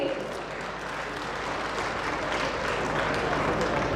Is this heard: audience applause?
yes